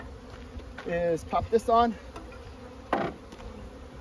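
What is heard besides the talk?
honeybees buzzing around hive entrance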